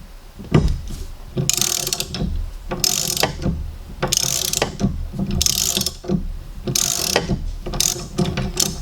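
A ratchet fitted with a 1.25 inch socket loosens the coupling nut on a boat propeller shaft during a flex gland shaft seal install, giving repeated bursts of close, loud metallic clicking in a steady rhythm.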